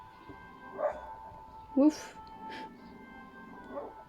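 A dog gives a few short, faint barks and whimpers indoors at an uneven pace while a person talks quietly over them.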